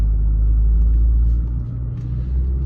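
A 2.5-litre turbo diesel automatic Range Rover P38 DHSE pulling away after being put into drive, a loud, close, low engine rumble that dips briefly midway, with no talking.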